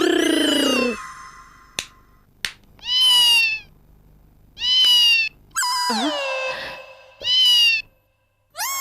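A person imitates a cat meowing in a series of four or five drawn-out, whining mews separated by silences, with a couple of sharp clicks between them.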